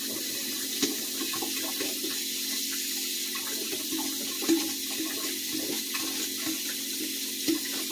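Hot water runs from a tap in a steady, close rushing stream, with a few soft knocks and clicks scattered over it and no talk.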